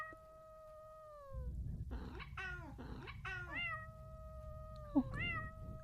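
Stretched cat meows in a video game: a sustained tonal meow fades out, followed by several shorter wavering meows and a final rising one, each clear over a low rumbling game background.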